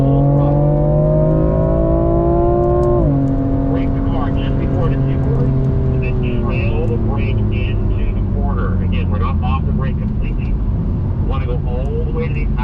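A BMW accelerates at full throttle on a race track, the engine note climbing steadily, dipping at a gear change, then climbing again, loud and close inside the car, with an instructor talking over it.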